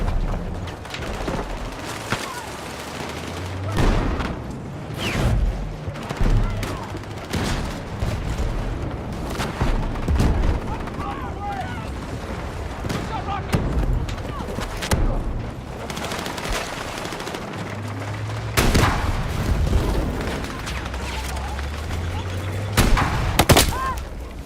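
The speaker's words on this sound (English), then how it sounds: "Come on, blow up the tank." Rapid bursts of video game gunfire and booming explosions from a tank battle, dense and loud throughout, with occasional voices mixed in.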